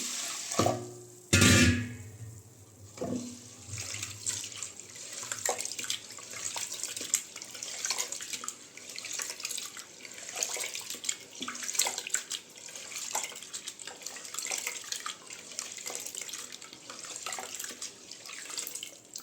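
Water runs and splashes close by, then irregular sloshing and swirling as lentils are rinsed and rubbed in a container.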